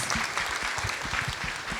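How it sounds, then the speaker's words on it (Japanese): Audience applause greets the architect Sou Fujimoto at an architectural lecture, a steady dense clatter of clapping with a low murmur of voices beneath it through the short stretch. "大きな拍手を"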